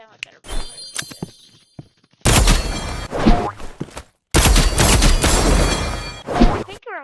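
Loud, harsh gunshots from an exogun and a revolver in the Roblox game Rivals, two sustained bursts of clattering fire, close and dense, separated by quieter handling sounds and brief gaps.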